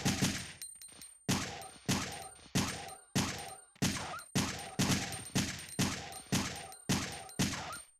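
Gunshots from the original Resident Evil 3, fired one at a time at a steady, even pace: about a dozen sharp, loud cracks, each trailing off briefly before the next, with no talking.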